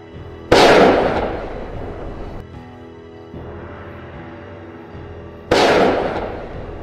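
Mortar rounds explode in a video game, two loud sharp booms about five seconds apart, each decaying into a rumbling tail, with a quieter muffled burst between them and no speech.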